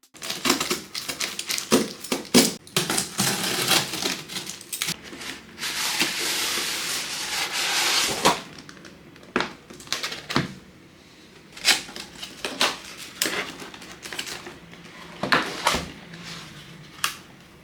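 Packaging of a Mchose X75 mechanical keyboard is handled during unboxing: crinkling, rustling and sliding of cardboard and plastic with frequent sharp clicks and taps, a denser stretch of scraping in the first half, all close up without speech.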